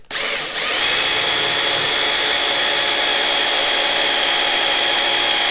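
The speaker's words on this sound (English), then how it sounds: "Drill your big hole." A power drill bores a large hole through a throttle body, a loud, steady high-pitched whine after a brief start, running continuously and close with no talk.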